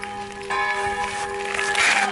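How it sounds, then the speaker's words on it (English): A church bell in Motovun, Croatia tolls with a ringing, sustained tone, fairly loud, its resonance swelling as a fresh stroke lands and hangs in the air. "this is the loud church bell from the church that I just mentioned before"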